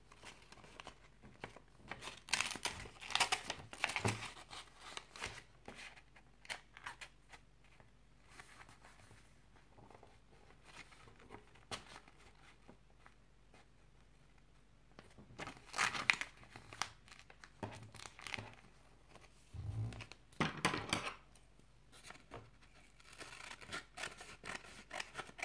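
Scissors cut through paper for a folded paper pouch, heard as faint, intermittent snips and crinkling rustles in scattered bursts against a quiet background.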